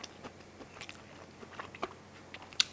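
Close crunchy bites into crispy buttermilk boneless buffalo wings, a few sharp crackling crunches spread over a couple of seconds, with chewing in between and no talking.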